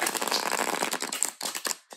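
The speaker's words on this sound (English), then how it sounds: "And these shuffle great." A deck of Osho Zen Tarot cards is shuffled by hand, close-up rapid riffling and flapping of card stock in quick bursts over two seconds, with no voice.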